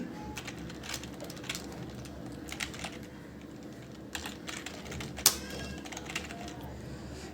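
Typing on a computer keyboard while entering text into a spreadsheet cell, a steady patter of light key clicks at close range, fairly quiet with a sharper click near the end.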